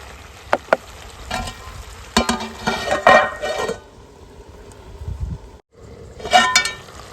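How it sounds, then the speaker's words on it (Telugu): A spoon stirs boar meat curry in a pot. Several sharp metal taps and scrapes sound against the pot, with bursts of sizzling and bubbling between them, close and fairly loud. "మధ్య మధ్యలో ఇలా కలుపుకోవాలి ఇలా కలుపుకుంటే మనకు అడుగు పట్టకుండా ఉంటుంది"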